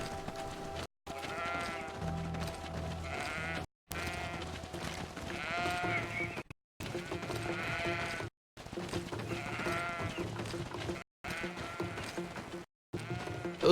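Goats bleating in the video game Greedfall, repeated loud nasal bleats in bursts separated by brief silences, with no talk.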